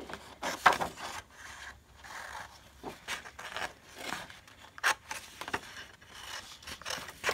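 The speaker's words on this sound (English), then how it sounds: "I'm just going to cut straight across with my scissors" Quiet, close scissors snip and slice through paper in a series of irregular cuts with faint rustling between them.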